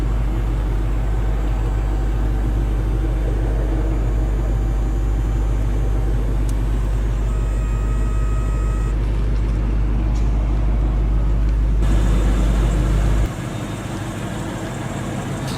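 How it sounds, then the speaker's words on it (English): The power roof of a 2014 Ford Mustang GT Premium Convertible folds back while the windows roll down, a steady motor whir over a low idling engine hum, ending with a shift as the mechanism stops. "by using the button on the roof, the windows roll down and the top goes back"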